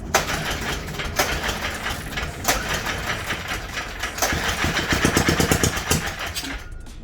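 A Honda dirt bike, just fitted with a cleaned, swapped carburetor, is cranked and sputters, with uneven bursts of mechanical rattling and a short, rapid engine putter near the end, all heard close up.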